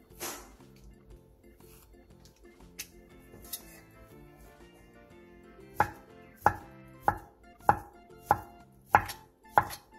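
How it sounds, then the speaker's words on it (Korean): A knife on a cutting board slices sliced ham into thin strips, with about seven crisp, evenly spaced chops in the second half over faint background music. "슬라이스 햄을 한 장씩 떼어낸 뒤 양파와 비슷한 두께로 채 썰어주세요."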